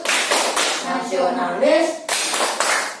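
A classroom group performs the Tepuk PPK rhythmic clap, bursts of sharp clapping at the start and again near the end, framing a voice chanting in between.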